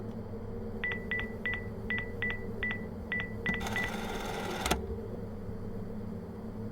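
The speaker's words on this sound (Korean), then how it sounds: "기술자한테 전화 걸고 있어요" A telephone keypad dials in the horror game Refuted Wind, giving about a dozen quick evenly spaced tones, followed by a short burst of static and a click over a low steady hum.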